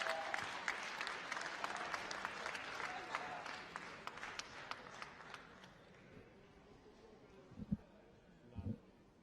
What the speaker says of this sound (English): Receives the applause from the crowd as we wait for the result